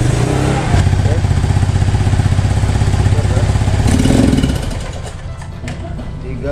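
A Suzuki Spin scooter engine with a sputtering, misfiring fault revs close by in a steady buzzing run, then drops to a lower idle near the end.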